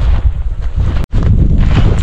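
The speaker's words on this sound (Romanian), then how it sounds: "Adie vântul, e răcoare." Cool wind gusting across an open mountain ridge near Vârful Bistricior during a descent toward Vâlcel, a steady low rumble buffeting the microphone for about two seconds, with a brief dropout in the middle.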